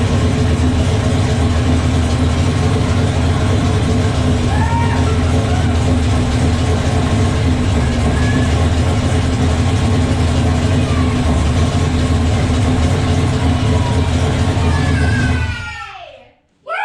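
A freshly rebuilt 414 engine idles steadily on its first startup with part of the exhaust unconnected, a loud continuous rumbling drone that runs for many seconds before cutting off abruptly near the end.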